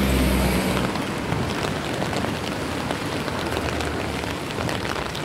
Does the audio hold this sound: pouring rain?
yes